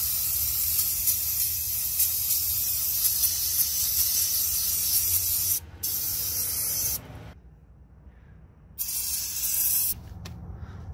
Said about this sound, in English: you can spray that whole area down